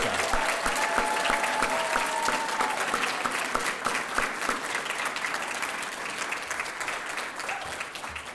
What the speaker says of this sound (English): Let's give a big round of applause for Lily Rybka